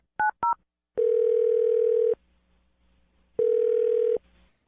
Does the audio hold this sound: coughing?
no